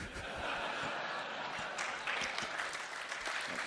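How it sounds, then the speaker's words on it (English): A TED conference audience bursts into sustained applause as a standing ovation, a dense, steady wash of clapping hands that stays loud and even throughout. "the audience gives him a standing ovation"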